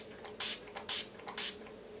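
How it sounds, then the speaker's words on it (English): Three short hissing spritzes of makeup setting spray from a small pump spray bottle, close by and spaced about half a second apart, in an otherwise quiet room. "just spray that with some setting"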